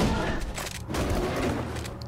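A single gunshot in the video game Borderlands 2, heard as a dense, loud blast with a rumbling tail that fills the short moment alone.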